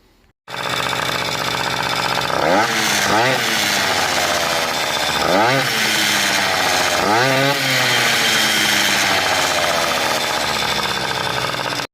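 A Peugeot 103 SP moped fitted with a Stradivario Boost variator runs on its stand, its loud buzzing two-stroke engine revving up sharply four times between steadier idling stretches.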